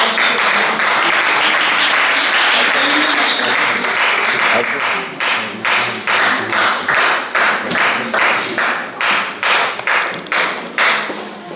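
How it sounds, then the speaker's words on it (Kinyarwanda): A crowd at a church service applauds, first as a dense wash of clapping, then settling into loud, rhythmic clapping in unison, with voices mixed in. "so duhe Imana amashyi menshi"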